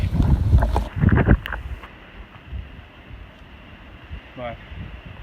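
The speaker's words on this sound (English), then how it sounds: "it's so windy" Gusty wind buffets the microphone on an exposed Appalachian Trail ridge, loud rumbling bursts at first that ease into a steadier low rush.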